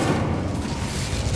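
Incendio fire spell cast in Hogwarts Legacy, a sustained low rumbling whoosh of flame with a dense, steady roar lasting the whole moment, moderately loud and without any voices.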